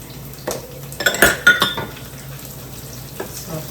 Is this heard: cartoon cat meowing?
no